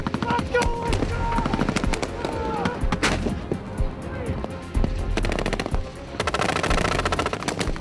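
A C6 7.62 caliber machine gun fires in loud, rapid sustained bursts, close and dense with brief gaps, while other gunfire rattles in the background and voices shout beneath it.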